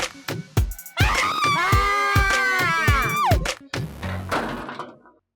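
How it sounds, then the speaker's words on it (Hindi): A girl screams in a drama scene, a long, loud, wavering shriek that rises and falls for about two seconds between sharp knocks and thuds, then breaks off into rustling noise. "इतना स्मार्ट लड़का देख के लड़की ने चीख मारा है"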